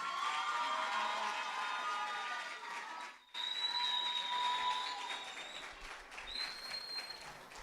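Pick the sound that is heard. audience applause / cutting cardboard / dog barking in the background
audience applause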